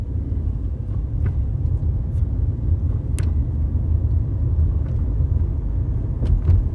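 Car pulling away after turning right out of a road, driven with a left-foot accelerator, a steady low engine and road rumble heard from inside with faint clicks, continuous and alone.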